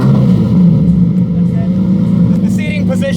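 A Lamborghini with a straight pipe exhaust drones loudly from inside the cabin, engine note steady then shifting as it pulls, with talking over the engine sound.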